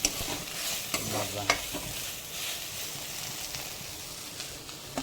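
Moringa leaves frying in a pan after salt has been added, stirred with steady sizzling and a few sharp scrapes against the metal, close and unbroken with no talking.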